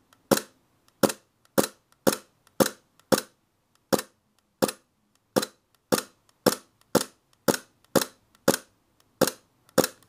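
A WE M&P airsoft gas pistol malfunctioning into full-auto fire, heard as a long string of sharp, evenly spaced cracks, close and loud, with no talking.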